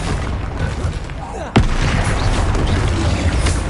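Spell explosions in the video game Hogwarts Legacy: rumbling blasts and booms with one sharp, loud impact partway through, followed by sustained low rumble and crackle of combat.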